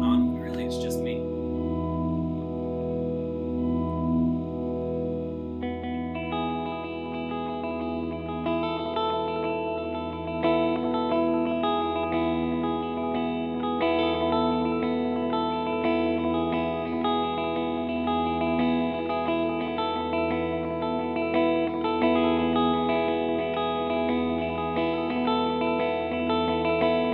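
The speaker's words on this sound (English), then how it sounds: "turn on my delay here, play a really simple line, but it'll sound like a lot more is going on when really it's just me" An electric guitar plays a simple line through a delay effect, repeats stacking into a thick, ringing ambient drone that keeps sustaining and layering, loud and continuous without speech.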